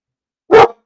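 A dog lets out one sharp, loud bark near the microphone, isolated against silence.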